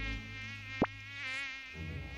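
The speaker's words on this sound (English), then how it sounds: "Mosquitoes! Get away!" Mosquitoes buzz in a cartoon, a steady, close, high-pitched whine that lasts throughout, with a brief sharp swell near the start as one zips past.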